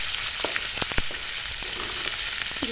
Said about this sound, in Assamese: এইখিনি মই ইয়াত এতিয়া ভাজি ল'ম।